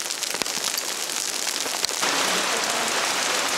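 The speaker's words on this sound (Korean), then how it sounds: "빗줄기가 거세져 나도 잠시 쉬어간다." Heavy rain pours down during a summer mountain storm in Bulgaria's Rila range, a loud, dense hiss of drops that thickens further about halfway through.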